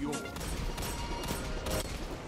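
Dense hand cannon gunfire rings out in the Destiny 2 video game during a zone-capture match, loud repeated shots and blasts piling over one another with constant game noise and no pause.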